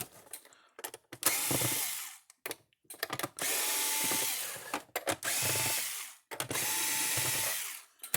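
Screws are driven out of the casing of a Stafix X6 fence charger with a power driver. Several whirring bursts of a few seconds each are separated by short pauses and small clicks, heard up close.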